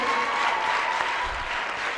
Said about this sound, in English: A round of applause for Yes and to our girls.